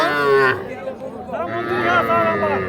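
A calf moos repeatedly, a drawn-out bleating low near at hand, while people talk in the background at a cattle market.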